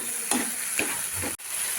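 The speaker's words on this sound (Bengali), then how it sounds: "এবারে সর্ষে বাটাটাকে একবার আমি ভালোভাবে এভাবে নেড়ে নেবো সব কিছুর সঙ্গে মিশিয়ে নেবো" Mustard paste is stirred through frying food in a pan for a pabda fish curry, giving a steady close sizzle with a few scraping strokes of the spoon and no talking.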